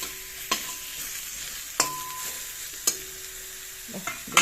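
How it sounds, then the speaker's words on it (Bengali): Sliced eggplant frying in a pan in a home kitchen, a steady oily sizzle under sharp, intermittent scrapes and clinks from stirring. "বেগুন ভাজাটা করে নিই"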